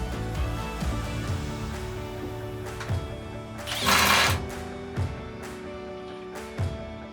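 Screws are driven into a pedal base with a continuous motorised whirr, rising into a louder grinding burst midway, with short knocks as the tool bites and stops.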